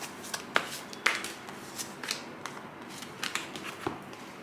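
Oracle cards being shuffled and handled up close, with a series of quick papery riffles and soft slaps at irregular intervals, fairly quiet and with no talking.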